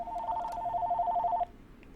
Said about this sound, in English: And there is my phone.